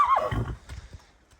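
A horse, a white-legged mare, gives a short, close neigh that drops into snorting breaths, followed by a few soft, scattered hoof clops.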